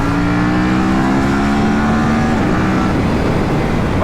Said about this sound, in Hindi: भाई व्हाट अ पंच भाई इस बाइक का